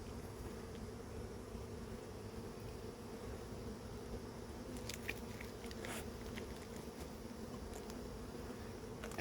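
A steady, quiet honeybee buzz hums throughout from an open hive during inspection, with a few faint clicks and taps in the middle; no voices.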